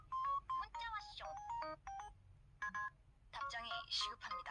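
Text message alert tone of an LG LB4400 phone, a Korean voice jingle with bright chiming notes that sounds in short bursts, repeated several times, close and clear.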